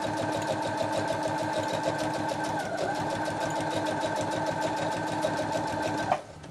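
Loud, rapid mechanical whirring of a sewing machine stitching continuously, then stopping abruptly near the end.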